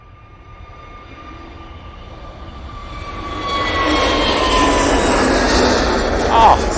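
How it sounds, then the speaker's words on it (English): An easyJet Airbus A321neo jet begins its takeoff roll at Manchester Airport, its engine roar building steadily from a moderate hum to a loud, broad rush with a rising whine. "Easyjet A321 Neo now on the roll"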